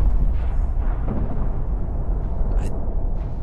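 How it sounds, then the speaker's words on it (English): Fireworks going off in Fallout 4, a dense, loud rumble of low booms and crackling bursts rolling continuously for a few seconds with no talking. "Ooh, fireworks!"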